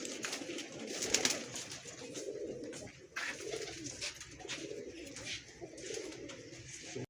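Soft, throaty coos from highflyer pigeons repeat in a loose rhythm over faint background noise, with several birds close by.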